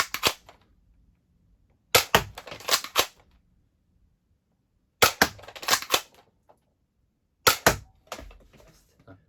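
Nerf Dinosquad Raptor Slash dart blaster firing foam darts, in three separated bursts of several sharp snapping shots each, close and fairly loud with quiet gaps between.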